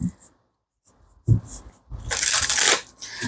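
A deck of tarot cards being shuffled close by: a few soft riffles, then a longer, louder burst of flapping card edges near the end.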